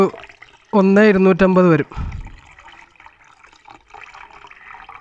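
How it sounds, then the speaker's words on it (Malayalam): Water poured into a blender jar for fresh lime with sugar syrup: a short spoken phrase comes first, then a steady, moderate splashing pour runs to the end. "ഇനി നമുക്ക് ഇതിനകത്തേക്ക് 1 ലിറ്റർ വെള്ളം കൂടി ചേർത്ത് കൊടുക്കാം"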